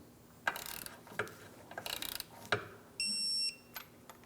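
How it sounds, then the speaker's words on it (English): A torque wrench clicks while tightening a knock sensor on a 2004-2008 Pontiac Grand Prix 3.8L V6, with several sharp ratcheting clicks and metallic pulls, followed by a short steady tone, all fairly quiet and close. "Now we can torque this to 14 foot-pounds."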